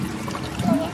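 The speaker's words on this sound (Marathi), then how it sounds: "त्याच्यात पाणी टाकणार आहे जेवढं लागेल" Water pours from a container into a pot holding a large packet of Maggi noodles, a steady close splashing stream that swells louder toward the end of the short pour.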